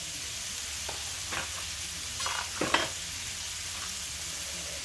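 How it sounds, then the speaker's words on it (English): Sliced sausage and potatoes sizzle steadily in a hot pan, a dense close crackling hiss with a few brief scraping stirs partway through, and no talking. "we're going to let this sizzle out for about 30 seconds to a minute"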